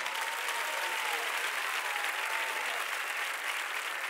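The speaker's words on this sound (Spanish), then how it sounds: "lo importante es la reacción del público, su aplauso" Studio audience applause for a senior singer on the TV talent show La Voz Senior blind auditions, a continuous wash of many hands clapping, even and sustained, with faint voices mixed in.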